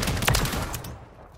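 A rapid burst of full-auto gunfire from Call of Duty on the Shipment map, loud and dense in the first second, then tailing off into fainter game noise.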